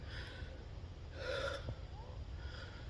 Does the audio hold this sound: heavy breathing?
yes